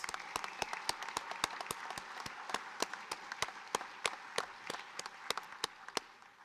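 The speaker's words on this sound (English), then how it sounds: "May we have a round of applause for our incredible Vietnam veterans." Applause for Vietnam veterans at a recognition ceremony in Meriden, Connecticut: a modest crowd claps steadily for several seconds, with individual claps distinct and close, before it gradually thins out.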